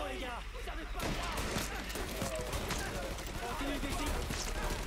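Gunfire in the video game Mafia 3, a steady crackle of rapid shots and bursts mixed with game noise, with someone talking over it.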